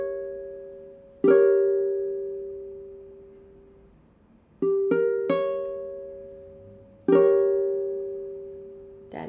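A diminished chord in root position, sounded several times on a sustained keyboard-like instrument: arpeggiated single notes then full struck chords, each ringing and slowly decaying, clear and alone.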